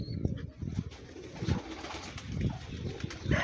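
Kajal pigeons flying near a rooftop, soft repeated cooing calls and faint wing flutters at moderate distance against a quiet outdoor background.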